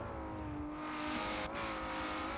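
A Nissan GT-R race car in Forza 7 holds a steady, continuous engine drone throughout. A smooth tone rises slightly and then settles, with no clear tire squeal or voices.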